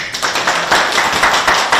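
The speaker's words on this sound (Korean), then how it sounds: "박수 한번 주세요" Audience at a Chilgok County integrated control center award event gives a short round of clapping, close, rhythmic, fairly loud hand claps filling the brief moment without talk.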